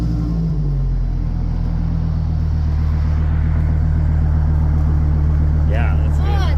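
A Hummer H3 truck with a new dual-pipe, single-chamber muffler starts up and settles into a loud, deep, steady rumbling idle close by, with brief talk near the end.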